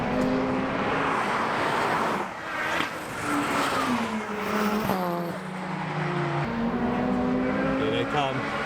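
Turbocharged race cars, including modified Fords, passing on a wet Brands Hatch circuit. Engines swell and fade as each car goes by at moderate distance, with rising and falling pitch sweeps and a steady hiss of spray.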